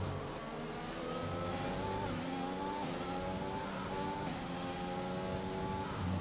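A Formula 1 car in F1 2021 engine braking and revving, its engine note stepping through falling and rising tones at moderate level, continuous with no talk.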